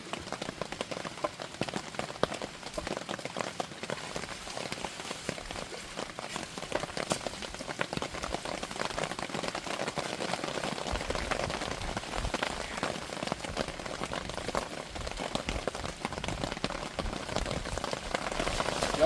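Heavy rain pours steadily throughout while catfishing in Indiana, a dense, even hiss of drops striking the surface close by, with no voices over it.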